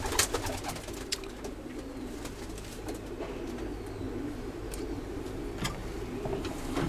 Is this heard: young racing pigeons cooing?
yes